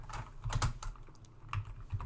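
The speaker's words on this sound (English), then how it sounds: "I'm failing with the typing." Fingers typing on a computer keyboard during a lecture, a quiet, irregular patter of close key clicks in small bursts with short pauses.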